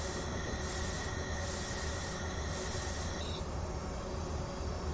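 A train braking in the Train Simulator Classic game, Santa Fe line: steady loud wheel and brake squeal with hissing air, pulsing in regular bursts before easing into a smoother rumbling hiss.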